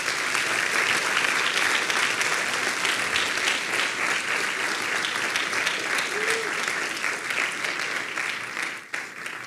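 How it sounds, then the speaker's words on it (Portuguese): A church congregation applauds for the Lord, sustained loud crowd clapping for several seconds with voices mixed beneath, tapering slightly near the end. "Aplauda o Senhor mais uma vez"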